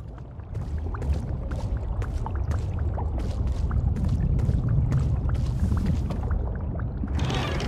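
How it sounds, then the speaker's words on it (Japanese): Water flows in the video game Ghostwire: Tokyo, a steady close rushing stream with repeated soft splashing pulses, heard alone and rising briefly into a brighter hiss at the end. "なんだ、水の音か。"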